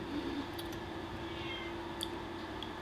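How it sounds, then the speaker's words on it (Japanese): An indoor house cat meows a few faint times at night against a steady low background hum, with brief soft calls spread across the stretch. "あーにゃーにゃーにゃーにゃー言い出すんだよ。"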